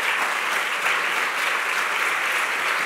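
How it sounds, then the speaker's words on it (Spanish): Steady, even applause from an audience at a public libraries congress award ceremony, a continuous wash of clapping throughout with no speech over it. "Y os pido un fuerte aplauso para la biblioteca porque no van a poder venir."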